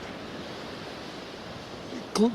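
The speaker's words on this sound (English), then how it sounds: "clear of the waves rolling in, because you're more likely to get a weed if your line's low in the water closer to the shore" Waves roll in on an Aberdeenshire beach in a steady, moderately loud wash of surf noise, with a short sharp chirp-like sound right at the end.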